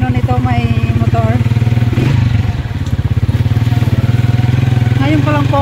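A motorcycle with a sidecar runs with a loud, steady, close engine throb, the rider wearing a helmet, while a person talks over the continuous engine noise.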